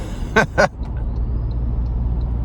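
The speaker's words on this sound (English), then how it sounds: "I love the blow-off valve sound of these new turbocharged 4-cylinders" Two quick bursts of airy turbo blow-off valve hiss from a 2026 Toyota Tacoma SR5 2.4 turbocharged four-cylinder, over a steady low engine rumble that continues afterward.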